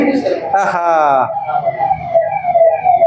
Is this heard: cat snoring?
no